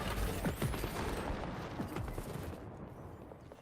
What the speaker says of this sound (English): We're shooting our gun.